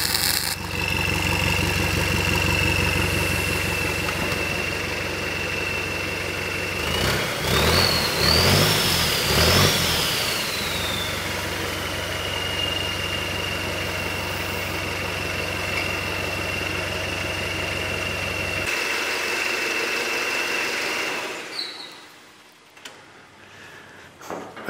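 A turbocharged forklift, fitted with a Cummins diesel, idles steadily and then revs hard for a few seconds with a rising whine before settling back to a loud, even idle that cuts off near the end.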